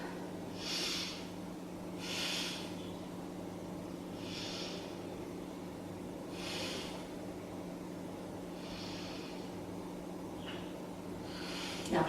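Deep, slow breaths are drawn in and let out during a yoga pose, five or six soft airy swells evenly spaced over a low steady hum.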